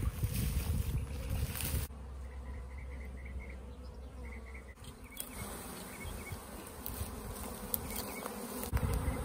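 A honeybee swarm buzzing during a swarm catch: a dense, steady, close hum of many bees that continues throughout, with no voices.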